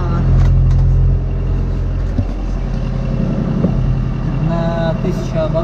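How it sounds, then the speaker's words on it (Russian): A sailing yacht motors along under engine power at about four knots and a thousand rpm, its engine a loud, steady low drone close by, with brief voices in the background. "под мотором мы сейчас идем."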